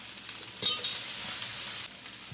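Vegetables with tomato, green chili and chili powder sautéing in a pan for puff filling, a quiet, close sizzle that swells with a brief stir, then settles and fades, with no one talking.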